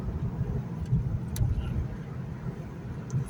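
A Mazda MX-5 drives a narrow country road past farm sheds on a club run, its engine and tyre roar a steady, moderately loud drone throughout.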